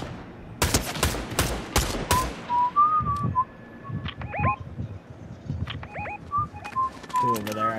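Several rapid gunshots from a video game crack out in a quick burst near the start, followed by scattered game effects and faint background chatter.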